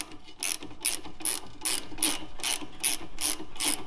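Ratchet wrench tightening a nut on the front shock link arm of a 2003-2008 first-generation Honda Pilot, giving about nine quick, evenly spaced clicks close to the listener.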